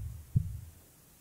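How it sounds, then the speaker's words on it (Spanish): A single low, muffled heartbeat thump sounds as an effect in a Spanish-language audiobook of Edgar Allan Poe's The Tell-Tale Heart, faint and alone over a soft background hum. "Era el latido del corazón del viejo."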